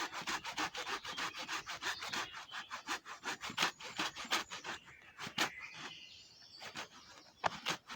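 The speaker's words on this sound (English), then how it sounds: "The trouble with wet wood, you saw, has a tendency to bind when you're cutting through." A hand saw cuts through a wet wood log in quick, rhythmic back-and-forth rasping strokes, close and clear, pausing briefly near the end as the blade binds before resuming.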